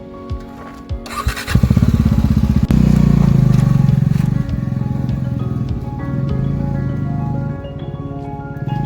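A motorcycle engine on a mountain road in Kurseong runs close by, rising to a loud, steady rumble after a brief clatter, then settling into a slightly quieter, even idle.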